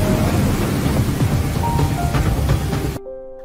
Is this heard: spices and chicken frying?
no